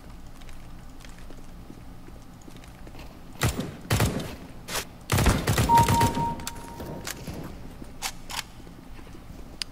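MP5SD gunfire in the game CS:GO comes as a few short suppressed bursts of rapid shots, loud and close, separated by quieter gaps with small clicks and mechanical noises in between.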